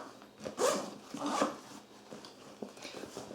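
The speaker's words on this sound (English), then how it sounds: "You also have on each of these pockets 2-way zippers, which I really do like." A two-way zipper on a backpack pocket is pulled in two quick rasping strokes, then fainter fiddling with the fabric.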